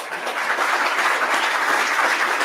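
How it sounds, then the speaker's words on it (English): Audience applause at a formal institutional event honoring a guest, a dense, steady wash of many hands clapping together, continuous and fairly loud throughout with no pauses. "Please keep applauding for the sir."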